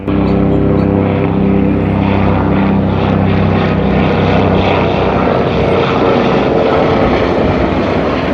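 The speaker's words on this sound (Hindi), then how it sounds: "अभी दिन के टाइम पे फिर से हेलीकॉप्टर आ गया है" Loud, steady drone of a rotor aircraft engine close overhead, constant and unbroken throughout.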